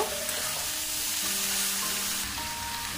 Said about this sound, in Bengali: মশলার সাথে এইগুলো আমি ভালো করে কষিয়ে নেব